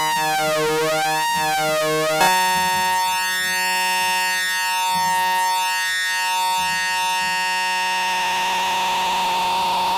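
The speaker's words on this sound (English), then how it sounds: "So a sawtooth that has cross modulation." Arturia MiniFreak synthesizer playing a sawtooth oscillator with cross modulation: a bright, buzzy sustained tone with shifting, sweeping metallic overtones and a sudden timbral jump, continuous and loud with no talking.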